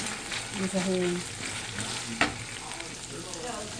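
Onions frying with garlic in a pan: a steady, close sizzle with a few stirring scrapes and one sharp clack of a utensil midway.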